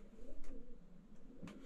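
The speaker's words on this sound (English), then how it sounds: "It's a pigeon." A pigeon coos softly in an abandoned house, low repeated throaty coos in a steady rhythm, faint and slightly distant against a quiet background.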